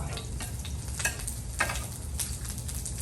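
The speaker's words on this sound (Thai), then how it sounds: "อันนี้ใส่ไอ้มันหมูเข้าไปแล้วนะคะ" Pork fat sizzles loudly on a very hot pan at a Korean grill, a dense steady hiss broken by sharp crackles and pops, with no talking.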